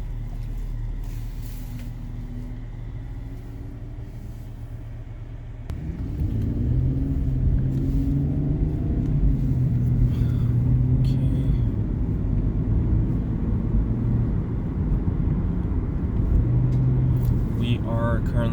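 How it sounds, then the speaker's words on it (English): A 2012 Infiniti FX35 V6 engine hums steadily while driving at 60 to 80 km/h, its low rumble rising partway through and holding a smooth, constant drone with road noise. "It's so nice driving a V6 engine car."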